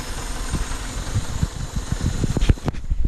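An engine idling after a Y8 intake manifold swap with a Y7 throttle cable, a close, steady low rumble with uneven pulsing beats and a few sharper knocks toward the end.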